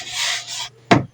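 Sandpaper rubbed over the painted wooden hull of a motorboat under construction in a rural setting, a steady close scraping stroke that pauses before a short, sharper scrub.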